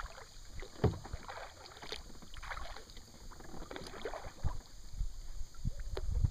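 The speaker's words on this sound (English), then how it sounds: "Don't aim towards them, John, just paddle like you're going to go past them" Kayak paddling through shallow water during pre-season scouting, with soft irregular paddle splashes and water swishes close by, a brief louder splash near the start and another toward the end, over light wind noise.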